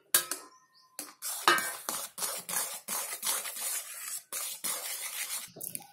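Flour stirred into melted sugar in a pan for Mysore pak sweet, heard as about a dozen rhythmic, close scraping strokes with short pauses between them, with no talking.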